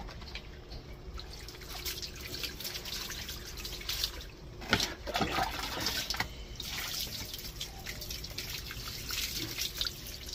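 Tap water runs in a continuous, close rush while a cat is bathed, with a few louder splashes partway through.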